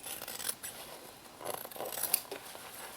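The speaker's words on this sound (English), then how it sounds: "I'm going to trim off some of this lining" Scissors cut and trim the lining of a recycled denim pouch near the zipper, giving a few crisp snipping and rasping strokes at close range with no talking.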